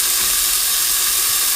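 Lamb for a curry sizzling loudly as it is spread across the bottom of a large Dutch oven, a dense, continuous close-up hiss with no talk.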